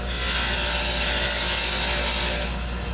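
An electric grinder bites into ceiling tile in a single harsh, hissing burst of about two and a half seconds, close by, then cuts off into quiet room noise.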